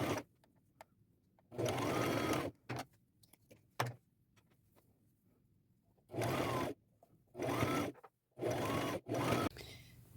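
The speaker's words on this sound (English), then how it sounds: "and I'm going to use a zigzag stitch" A sewing machine zigzag stitching a thrifted sweater runs in loud, close bursts of about one second each, five runs separated by quiet pauses with small clicks and handling noises.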